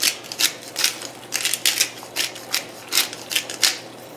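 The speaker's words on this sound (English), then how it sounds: "fresh cracked black pepper" Hand grinder cracking fresh black pepper over a simmering pasta sauce, a close series of rhythmic gritty ratcheting bursts, about a dozen twists, with no talking.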